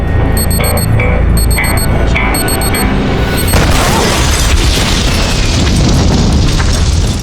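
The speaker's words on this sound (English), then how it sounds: "The explosion once again ignites a raging inferno" A bomb in a film ticks off rapid electronic beeps in short repeated bursts before a huge explosion erupts into a loud, sustained, rumbling roar of fire that fills the rest of the moment.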